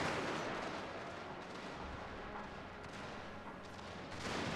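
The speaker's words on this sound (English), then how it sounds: "Oh, they're firing there, straight into us." Massed volley gunfire from troops in a Total War battle of the Anglo-Zulu War, a dense, continuous crackle of rifle shots that stays loud throughout with no clear gaps.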